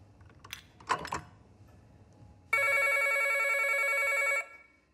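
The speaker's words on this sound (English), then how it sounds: "Vishwas, the phone." A telephone rings with a bright, steady electronic trill held for about two seconds, loud and close, following a couple of soft clicks and knocks in a quiet room.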